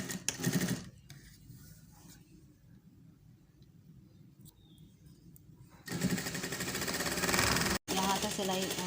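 A sewing machine hems the bottom of a shirt along a fold about an inch deep, with a short run of motor whir at the start, a quiet pause, then a longer, loud steady run broken by one brief stop.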